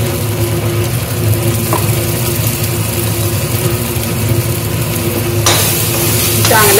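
Mutton masala paste with oil, ginger-garlic paste and ground coconut stir-fried in a pan, a steady loud sizzle with scraping spatula strokes throughout, a low engine-like hum underneath, no talking.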